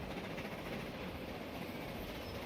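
A train from the Transport Fever 2 game rolls steadily along its rails, a low continuous rumble with faint rail rattle holding at an even level throughout, with no voices.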